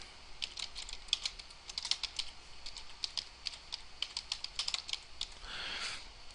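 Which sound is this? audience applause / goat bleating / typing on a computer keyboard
typing on a computer keyboard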